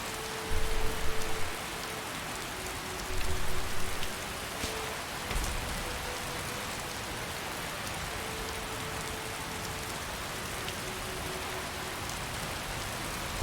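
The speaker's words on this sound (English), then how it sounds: "I can't believe I gotta run all through the rain and" Steady rain and dreary weather in the video game Skyrim, a constant wash of rainfall hiss that fills the whole clip at moderate level with no speech.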